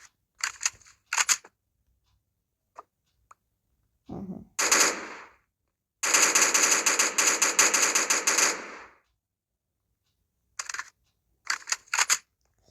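Rapid clattering bursts of a gun firing in a Minecraft mod, short snappy volleys and one long sustained burst separated by silence, sounding dry and clipped.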